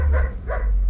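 A dog refusing to get back into a car barks twice in quick succession, close by, over a low rumbling background.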